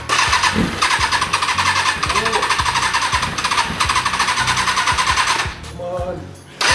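A Kawasaki ZX600-J motorcycle engine starts and runs, a loud close rapid rumbling idle with crackling firing pulses that suddenly drops off near the end.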